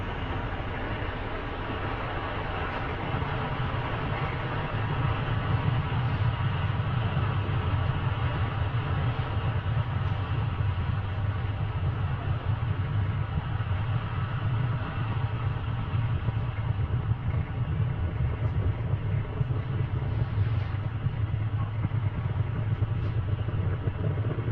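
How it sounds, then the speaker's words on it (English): A SpaceX Falcon 9 rocket rises from Pad 40 with a deep, steady rumble that fills the air from a distance. The roar holds an even low drone for about twenty-five seconds, with no voices over it. "Falcon 9 has successfully lifted off from pad 40"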